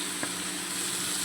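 Peas, carrot and cauliflower go into a hot frying pan, giving a soft, steady sizzle with a faint stir or clink near the start and again at the end.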